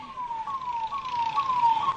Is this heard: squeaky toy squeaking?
no